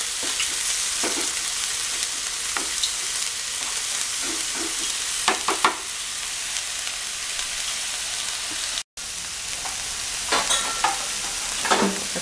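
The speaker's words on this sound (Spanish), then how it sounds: "Vamos a freír la cebolla y el apio." Chopped red onion and celery fry in a pan, giving a loud, continuous sizzle throughout, broken by intermittent stirring scrapes and clatter, with a brief dropout near the end.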